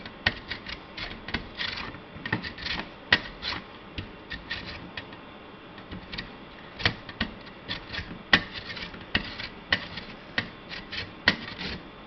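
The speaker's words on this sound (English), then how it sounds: "let's take the lemon and grate its skin" A lemon's outer skin is grated on a hand grater, giving repeated dry rasping scrapes in an irregular rhythm, steady and close throughout with no talk.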